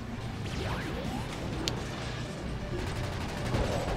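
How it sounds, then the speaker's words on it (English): In the video game Ratchet: Deadlocked, explosions and fighting play out as a dense, steady barrage of gunfire, blasts and whooshing impacts that runs the whole way through without pause. "Explosions and fights."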